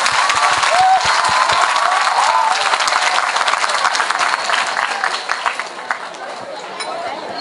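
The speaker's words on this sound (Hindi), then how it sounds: "तालियां" An audience at a happiness and wellness workshop breaks into loud, sustained applause. The clapping is dense and close, then thins and fades slightly toward the end, with some crowd chatter mixed in.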